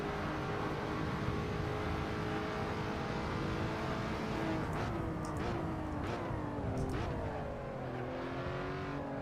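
A Lotus race car in the Assetto Corsa racing game drives at full engine load, revving steadily and then shifting through gears partway, with the pitch dropping and climbing again. The engine sound is moderately loud and continuous, with no voices.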